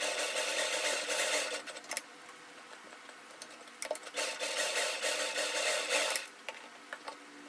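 A sewing machine runs in bursts while stitching a second seam over the first on an umbrella dress, with a fast rasping whir starting and stopping several times against quiet pauses.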